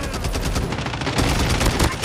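Call of Duty video game gunfire: a loud, dense burst of rapid automatic shots across the whole moment, close up, mixed with game noise.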